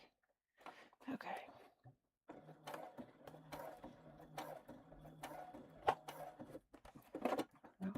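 A sewing machine stitches a tote bag in short, quiet bursts of rapid mechanical whirring, stopping and starting, with low talk at times between runs.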